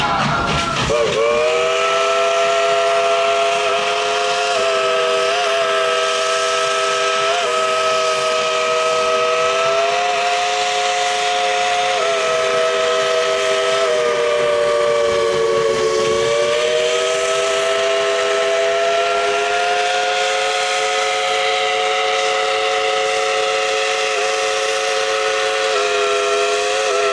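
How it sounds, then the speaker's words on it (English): A steam locomotive whistle on the Dollywood train during the Smoky Mountain Christmas season blows loud and close in a long sustained chord, holding for nearly half a minute with slight dips in pitch and an airy hiss underneath. "let's tell the engineer to blow the whistle."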